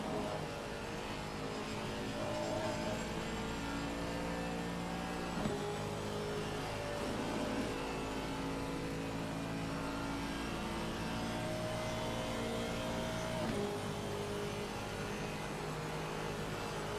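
An Aston Martin GT3 race car in Assetto Corsa Competizione runs flat out through Eau Rouge and Radillion at Spa, giving a steady, sustained engine drone with gear changes and no talk, fairly quiet throughout.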